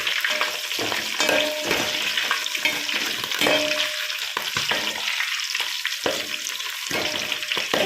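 Curry leaves fry in hot oil in a pan while being stirred, making a loud continuous sizzle broken by irregular scraping strokes of the spoon against the pan.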